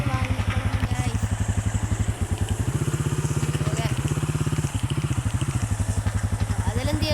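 A motorcycle engine in a video game, a steady rapid putter that rises in pitch briefly as if revved, then settles, loud and continuous throughout.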